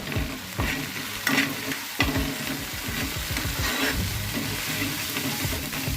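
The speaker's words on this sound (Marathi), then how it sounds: "एवढं सगळं ॲड करून झाल्यानंतर चमच्याने ढवळून घ्या" A spoon stirs onions with red chilli, turmeric, coriander and garam masala powders in a pan, scraping in rhythmic strokes over a steady sizzle, close and clear with no talking.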